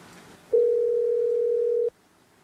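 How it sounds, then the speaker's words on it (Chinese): A telephone call tone sounds as one steady, clean, loud electronic beep lasting about a second and a half, starting and stopping abruptly over quiet background. "凯哥来电话了。"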